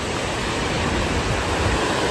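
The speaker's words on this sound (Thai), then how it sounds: "นี่เองแม่น้ำแม่แจ่มครับ" The Mae Chaem river rushes steadily at Ob Luang, a dense, loud, even roar of flowing water filling the scene with no voices.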